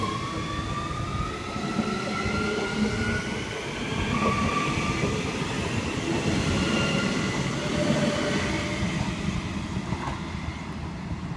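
A Queensland Rail SMU electric train, two coupled units, at Ebbw Vale station on the Ipswich–Rosewood line rumbles loudly and steadily, close by, with rising and falling motor whine and faint wheel squeal throughout, and no one speaks.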